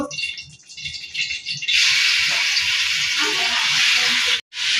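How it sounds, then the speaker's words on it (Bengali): Chicken pieces fry in a little soybean oil in a hot wok, with a steady, close broadband sizzle that swells loud partway through and runs on, briefly cutting out near the end. "এবার আমি লো ফ্লেমে আস্তে আস্তে মুরগির মাংসগুলো লাল লাল করে ভেজে নিব"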